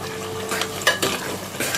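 A spoon stirs onion paste mixed with coriander powder, salt, turmeric and red chilli powder in a hot pan, for tinday gosht. Close, steady sizzling comes with a few scraping strokes and light metallic knocks.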